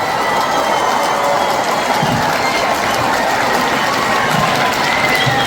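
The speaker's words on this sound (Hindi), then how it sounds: "एक बार जोरदार तालियां हो जाए भाई" An audience at a Maharaja Public School ceremony in Barmer applauds a motivational poet, a dense, continuous clatter of many hands clapping, loud and sustained throughout.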